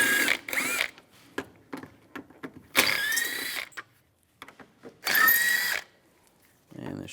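A power tool with a T30 socket drives out cover screws on a BMW X3 during starter work. It makes three loud whirring bursts separated by quiet gaps and ratchety clicks, recorded up close.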